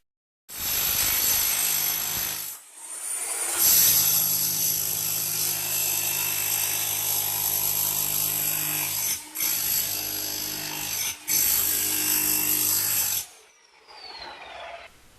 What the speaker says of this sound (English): You have to jackhammer it out.